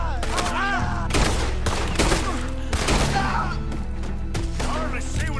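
Gunfire in Red Dead Redemption 2 during a night shootout, sharp loud shots and ragged volleys cracking in quick irregular succession, close and echoing, over a low sustained rumble.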